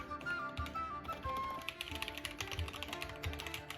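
Rapid clicky keystrokes on a GamePower Lyra RGB mechanical keyboard, a dense, steady patter of fairly quiet taps with no talking.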